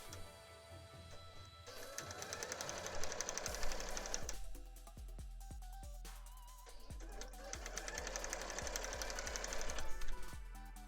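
Sewing machine stitching the hem of a cosplay skirt, running in bursts of rapid steady whirring with short pauses and a few sharp clicks between runs, close and fairly loud, no voices.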